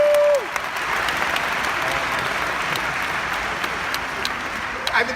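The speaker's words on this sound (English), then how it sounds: "Give yourselves a round of applause for that." A large tour audience at a talk on ideas claps and cheers in a full, steady wash of applause close at hand, opening with a brief tone and continuing unbroken, with a voice briefly audible over it.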